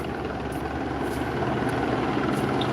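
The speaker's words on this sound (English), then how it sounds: "We now have the police helicopter" A police helicopter hovers overhead at night above a downtown Los Angeles encampment, its steady rotor and engine drone forming a continuous, moderately loud wash with no talk.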